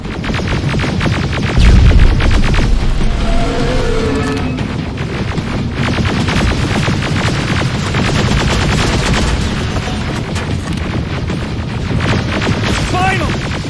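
Gunfire in the Terminator: Resistance shooter game, loud bursts of shots with a heavy thump near the start, layered under a busy, dense battle din throughout.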